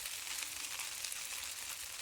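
Pasta frying in a pan, a soft, steady sizzle of oil crackling evenly throughout without any talking.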